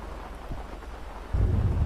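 Steady rain hisses in the video game GTA 5 while a low thunder rumble swells and deepens partway through, heavy and close with no voices.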